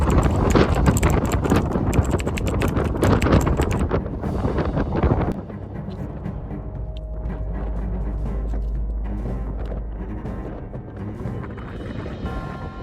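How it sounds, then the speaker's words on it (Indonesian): Strong, cold wind buffets the microphone near the summit of Mount Kerinci during a storm. Loud roaring gusts for the first few seconds drop to a lower, steady rumble. "anginnya kenceng banget dan lumayan dingin banget"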